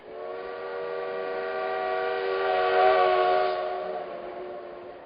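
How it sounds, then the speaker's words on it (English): A Pere Marquette steam locomotive blows a long, steady, chime-like whistle, swelling slightly in the middle before easing off, heard clearly with no talk. "the steam engine is such an unusual sound when it blows its whistle"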